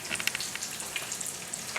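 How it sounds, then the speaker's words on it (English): Cajun shrimp crackle and sizzle in hot oil in a pan, a dense, fairly quiet spatter with small popping bursts throughout. "You want to hear that sizzle."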